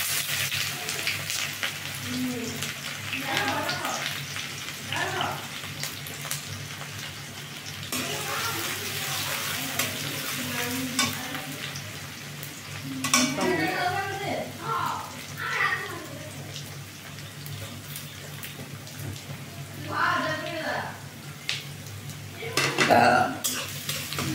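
Onion hits hot oil in a pan and fries with a soft, continuous sizzle, broken by bursts of stirring and utensil scrapes against the cookware at close range.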